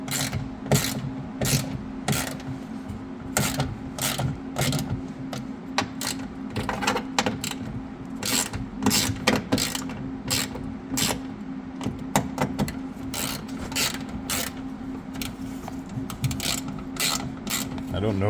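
Repeated clicking of a ratchet wrench tightening car door window hardware bolts, quick bursts of sharp ticks in an uneven rhythm, close and fairly loud, with faint background noise.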